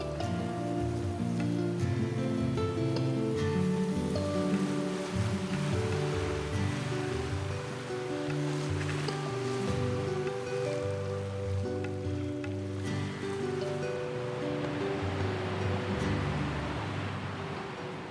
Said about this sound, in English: the ocean suddenly becomes louder